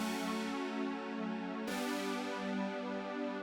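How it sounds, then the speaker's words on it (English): Sustained synth chords for a music sample, two long held chords with the second entering midway with a bright attack, steady and fairly quiet, with no voices. "So the chord progression sound like this."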